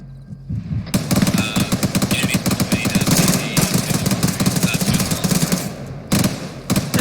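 Rapid automatic gunfire in a video game, long rattling bursts of closely spaced shots, loud and near, with a short pause before a final burst and faint voices underneath.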